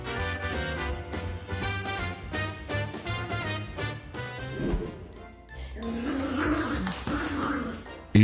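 A puppy whimpers and yips in high, repeated cries, then shifts into a low rough growling, loud and close.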